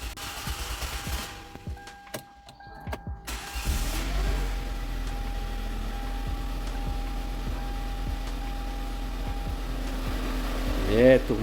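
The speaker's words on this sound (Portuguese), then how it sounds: "vamos dar partida com a bobina desligada até o motor carregar a pressão de óleo" A Kia Sportage engine with a reported engine noise cranks, catches and starts about three seconds in, then settles into a steady low cold idle heard up close.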